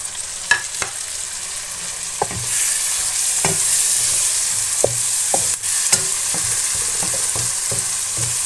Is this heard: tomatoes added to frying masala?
yes